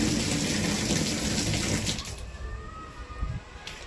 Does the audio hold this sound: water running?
yes